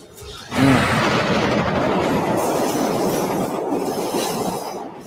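A train runs in the opening scene of the film Spiral: From the Book of Saw. It is a loud, steady rumble and rattle of wheels that starts abruptly and keeps going without a break.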